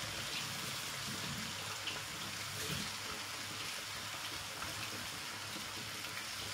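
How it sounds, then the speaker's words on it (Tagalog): Tap water running steadily for cooking vegetables, a constant soft gushing hiss that stays even and unbroken throughout, alone with no talk. "Anuhan ko ng tubig."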